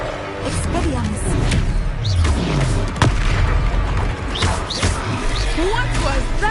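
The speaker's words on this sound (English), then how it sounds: "Expelliarmus." The Expelliarmus disarming spell cast in Hogwarts Legacy, a booming magical blast with whooshing bursts over a busy combat soundscape, with voices speaking throughout.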